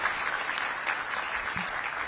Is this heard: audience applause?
yes